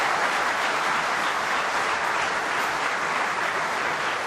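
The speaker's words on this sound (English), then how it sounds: "Once again, a lot of applause coming from the other side of the screen." Applause from the audience at another table during a snooker match, a dense, even wash of clapping heard at a distance and sustained throughout.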